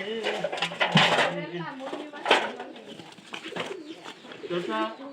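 Soft, repeated pigeon cooing sounds nearby beneath conversational voices, with occasional clinks and shuffling in the background.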